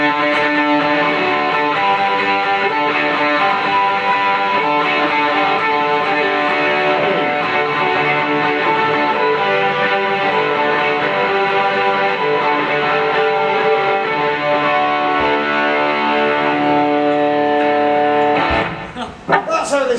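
A loud, sustained electric guitar fitted with Alnico Ghost pickups rings out with full chords and a slightly distorted tone, playing continuously before cutting off near the end.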